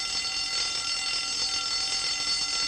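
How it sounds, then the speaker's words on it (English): A fire alarm at Soho Fire Station rings continuously, a loud, shrill, steady electric bell tone with a harsh metallic edge, unbroken throughout without voices. "Blue Watch are responding to their first fire alarm."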